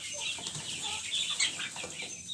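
A crowd of about 130 young roosters chirps and clucks continuously, with wings fluttering now and then, a busy flock close by.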